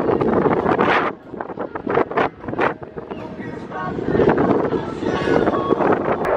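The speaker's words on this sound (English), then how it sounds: "It's so windy out here" Strong wind gusts buffet the microphone on the open deck of the Carnival Inspiration cruise ship, a loud roaring rumble that swells and dips irregularly, with faint voices underneath.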